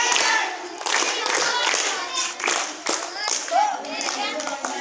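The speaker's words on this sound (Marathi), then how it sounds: "टाळ्या." Applause after a correct answer at a general-knowledge quiz, a room of hands clapping steadily and fairly close for about five seconds, with a few voices calling out over it.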